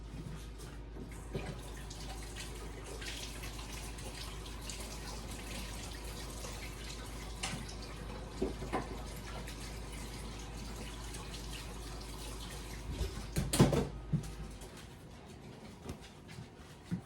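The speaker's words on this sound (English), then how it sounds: "now I am going to wash my hands real quick" A kitchen tap runs steadily while greasy hands are washed under it, a faint even flow of water with a few soft knocks and splashes toward the end.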